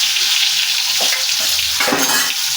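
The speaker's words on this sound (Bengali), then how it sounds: "আলুটাও আমি এই ভাজা তেলে আমি একটু ভেজে নিলাম।" Boiled potatoes frying in the oil left from frying eggs, a continuous close hiss and crackle with a couple of louder bursts of sizzling as pieces are stirred or added.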